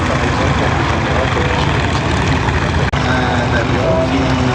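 A small twin-engine military aircraft, the kind once used for transport between Djibouti and elsewhere, roars past at an air show at La Ferté-Alais, a loud, steady propeller drone that fills the scene with a brief dropout near the end.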